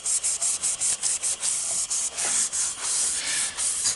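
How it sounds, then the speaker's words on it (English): Abrasive Scotch-Brite pad buffing the edges of a dented car hood to prep it for primer and paint; a close, steady rhythmic scrubbing in quick back-and-forth strokes, with no voices. "Scotch-Brite pad works really good. As you can see, I can get in there, buff it out, same with the edges here."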